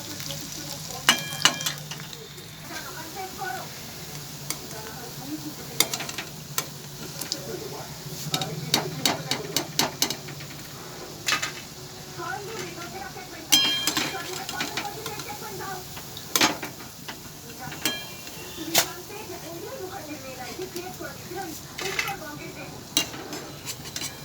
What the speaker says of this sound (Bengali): একটু কম আঁচেতে ভাজতে হয়, নাহলে ভেতরটা কাঁচা থেকে যাবে।